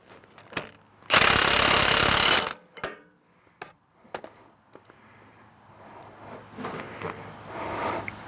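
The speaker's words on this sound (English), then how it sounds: "we'll go ahead and get the impact driver and the correct size socket and put this baby on" Impact driver with a socket tightening a nylock nut on a log splitter's hydraulic cylinder, one loud rattling hammering burst of about a second, then scattered metallic clicks and handling noises.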